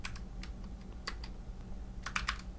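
Typing on a computer keyboard, with short bursts of light key clicks separated by pauses, close and fairly quiet, with no speech.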